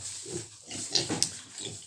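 Piglets grunt and squeal in short, close bursts while being vaccinated on a farm, with a few sharper high squeals standing out.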